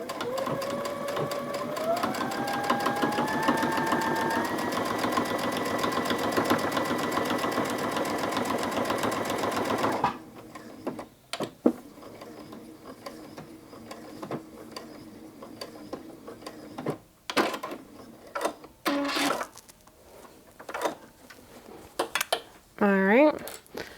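A sewing machine runs steadily for about ten seconds, stitching binding onto a small quilted mug rug, then stops, leaving scattered quieter handling clicks and rustles close by.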